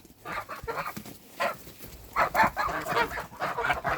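Geese honk in loud, irregular bursts close by, several birds calling over one another, on a farmyard.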